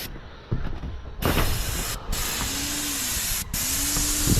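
Close, loud hiss of a spray gun applying a coat to an old Colorbond metal roof, bursting on in steady sustained passes with brief pauses between strokes, a faint mechanical whine underneath.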